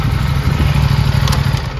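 An Aprilia RS457 motorcycle engine idles loudly and close by, a steady low rumble with a rapid throbbing pulse and a faint clatter.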